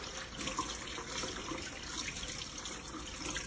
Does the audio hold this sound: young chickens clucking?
no